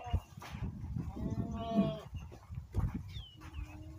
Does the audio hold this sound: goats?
yes